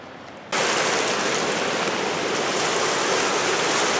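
Water thunders through the open sluice gates of the Dresden lock and dam on the I & M Canal, a loud, steady broadband rush that cuts in abruptly and holds unbroken.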